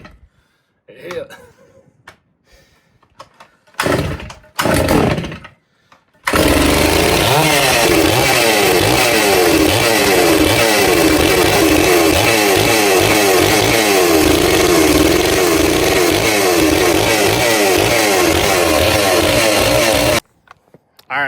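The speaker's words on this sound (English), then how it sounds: "if you like chainsaws, especially big chainsaws, this thing's fun. It rips." A few sputtering pulls and short bursts, then a large Holzfforma G660 gas chainsaw roars to life on its first start and revs loudly and steadily at close range for about fourteen seconds.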